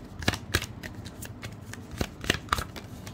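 Tarot cards being shuffled in a handful of crisp, papery riffles and slaps at close range, with brief pauses between bursts and no talking.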